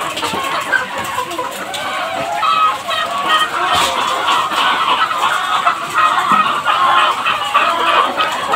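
Dense, continuous clucking from a crowd of chickens on a poultry farm, fairly close and loud, with overlapping calls throughout and no clear pauses.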